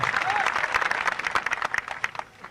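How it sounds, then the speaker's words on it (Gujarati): Dense audience applause at an open-stage gathering, many hands clapping close and loud, then thinning toward the end of the burst. "જેટલા કલાકારો છે એટલા બધા તાળીઓથી જોરદાર વધાવજો"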